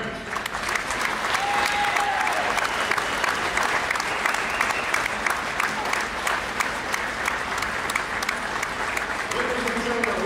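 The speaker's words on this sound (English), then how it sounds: "Ladies and gentlemen, one more quick round of applause for the 1974" Sustained crowd applause fills a gym at a high school wrestling meet, steady dense clapping throughout, with a brief announcer's voice over the public address near the start and a faint tone toward the end.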